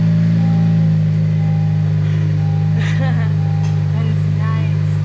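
A 10th-generation Honda Civic with an Invidia N1 exhaust holds a loud, steady, deep drone close by, with no clear rise in revs, while people talk briefly over it.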